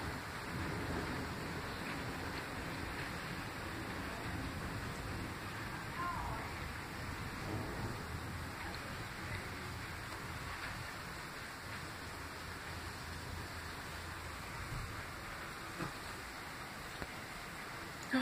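Steady rain hisses throughout, a dense, continuous wash of falling water with faint low rumbles underneath.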